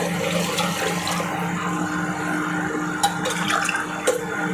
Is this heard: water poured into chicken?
yes